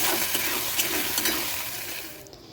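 Egg chili mixture with a cornflour slurry is stirred in a pan, giving a steady, close scraping and wet sizzling hiss that fades out near the end.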